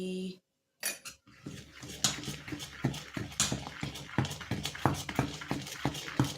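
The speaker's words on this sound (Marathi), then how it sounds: "मीठ टाकून छानपैकी असं फेटून घ्यायचं व्यवस्थितपणे" Dosa batter with salt is whisked in a bowl, a quick, steady run of rhythmic clinks and taps of the utensil against the container, close and moderately quiet after a brief pause at the start.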